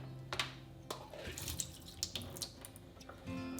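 Water from a tap runs over beans in a mesh strainer in a kitchen sink, a steady faint splashing with scattered drips and small knocks, close and alone.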